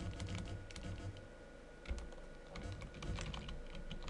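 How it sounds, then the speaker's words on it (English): Steady, quiet clicking of computer keyboard keys, with rapid irregular keystrokes continuing for about four seconds and no voices. "Half keys don't seem to work today."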